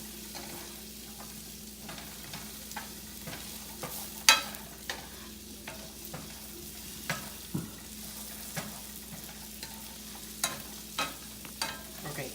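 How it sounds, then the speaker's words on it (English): Peppers, ginger and garlic stir-fry in a pan for vegetable lo mein, with a low continuous sizzle and a series of sharp spatula scrapes and taps spaced irregularly throughout. "you're gonna just want to cook this down until everything is, your peppers are soft"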